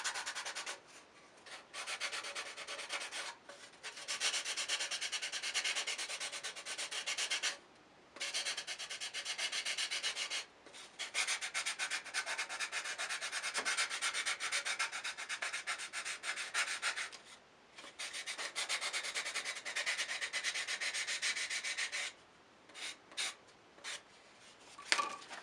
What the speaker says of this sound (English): you can apply a lot of pressure and make sanding go a lot faster.